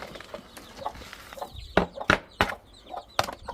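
Chickens and chicks clucking in a garden, with several sharp, loud clucks and calls close by, some coming in quick bursts over a quieter background of softer chirps.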